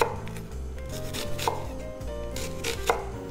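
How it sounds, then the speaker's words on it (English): A knife chops finely diced red onion on a wooden cutting board, with quick, close, rhythmic taps and brief scrapes and no voices. "we need about 2 tablespoons of finely diced red onion. And then make your cuts like so."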